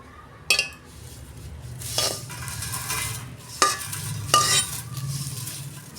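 An ingredient roasted in a dry pan for neem and eggplant cooking, with a spatula scraping and clinking against the metal in four distinct strokes over a soft background sizzle, close and alone.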